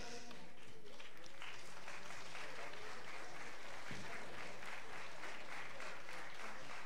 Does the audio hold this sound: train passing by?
no